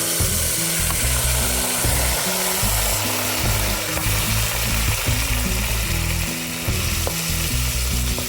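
Curry leaves and green chilies sauté in a pan for Andhra-style mutton fry, a continuous loud sizzle with a rhythmic rattling, scraping texture as the mix is turned.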